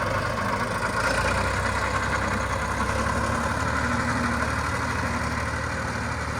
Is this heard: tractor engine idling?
yes